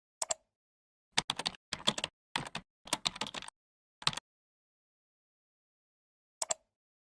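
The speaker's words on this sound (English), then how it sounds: "simply type the desired text" Bursts of typing clatter from a computer keyboard, several quick runs of keystrokes separated by short pauses, then one last brief tap after a longer gap, close and clear in an otherwise silent room.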